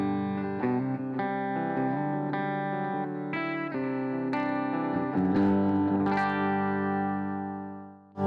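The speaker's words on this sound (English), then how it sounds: "Here's a clean on the bridge position." Reverend Bayonet electric guitar on the bridge pickup with a clean tone, playing sustained chords and single notes with a slight shimmer of effects, close and alone without any talking.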